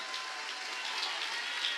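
A church congregation claps together in a dense, steady patter of applause, even in loudness throughout the short stretch.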